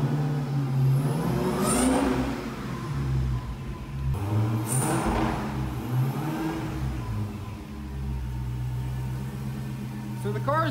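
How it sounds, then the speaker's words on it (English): Rebuilt, previously wrecked Dodge Charger Hellcat with its engine running in a garage, a steady close idle that rises in a couple of rev swells before settling back, with a person talking over it. "Car's running really good"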